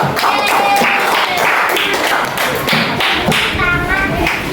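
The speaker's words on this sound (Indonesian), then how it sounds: "Tepuk tangan buat Habib." Classroom clapping from a group of students, a dense, loud patter of many hand claps and taps close by, running continuously without speech.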